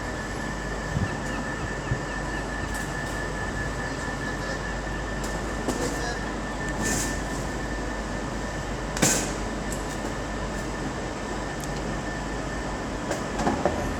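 A London Northwestern Railway class 350 electric unit at Liverpool Lime Street, a steady low rumble and hum in the station with occasional sharp squeals and clanks from wheels and couplings.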